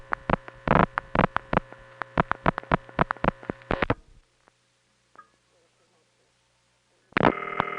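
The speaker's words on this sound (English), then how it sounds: "guess what happens if we dial a vacant code in the 314 area?" Telephone dialing into a vacant 314 area office code: a rapid run of sharp dial pulses or tones for about four seconds, a near-silent pause with faint clicks, then a steady intercept tone switching on near the end.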